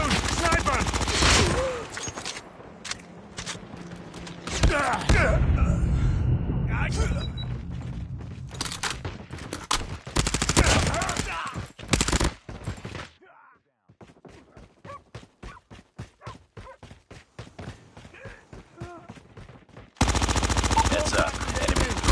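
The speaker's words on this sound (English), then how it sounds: "Enemy contact! Enemy contact!" Automatic and single gunfire from a Call of Duty multiplayer match, loud dense bursts and rapid volleys, dropping to quieter spaced shots midway before another loud burst, with in-game voice callouts mixed in.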